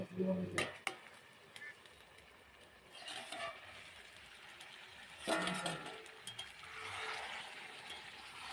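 Chicken pieces with potato are stirred in a covered pot as the curry cooks down, bringing scattered scrapes and a low simmering sizzle in short bursts between quieter pauses.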